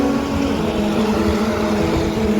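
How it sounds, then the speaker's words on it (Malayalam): Large heavy vehicles rumble along a muddy road, a loud, steady engine drone nearby with no break throughout. "വലിയ വലിയ വണ്ടികളൊക്കെ പോകുന്നുണ്ട് ഇത്"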